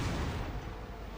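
Ship cannons fire in a Shogun 2 naval battle with explosive shells, a loud, dense booming roar that fills the whole short moment.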